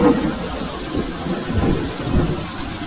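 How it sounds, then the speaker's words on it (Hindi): Heavy rain pours steadily while deep rolls of thunder rumble underneath, loud and continuous throughout. "अरे रामू, इस बारिश में क्या हुआ बेटा?"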